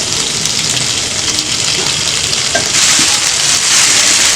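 Mutton cooking with onion masala in a pan gives a steady, close, dense frying sizzle that grows slightly louder and hissier partway through, with no talking.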